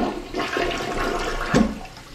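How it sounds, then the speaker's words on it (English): A clogged toilet in a bathroom being cleaned and repaired is flushed, giving a steady rushing of water with a brief louder gurgle partway through, fairly close and alone. "Toilet's clogged. Can't even get it flush."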